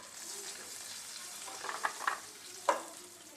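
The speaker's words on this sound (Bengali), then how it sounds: "মাছ ভাজা শেষ, এখন বড়িগুলো ভেজে নিচ্ছি।" Bori, sun-dried lentil dumplings, fry in oil with a soft, low sizzle and a few brief clinks of stirring near the end; no talk.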